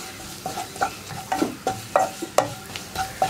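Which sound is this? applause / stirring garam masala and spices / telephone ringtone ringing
stirring garam masala and spices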